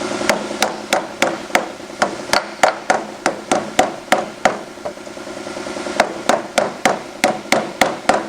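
A hammer strikes sheet metal over and over to form a flange on a tipping wheel, producing sharp, ringing metallic blows in quick, steady succession, loud and close, with a brief pause midway and no talk.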